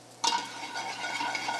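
Chopped garlic dropped into hot oil in a pan, a sudden loud hiss that settles into a steady close sizzle with light stirring.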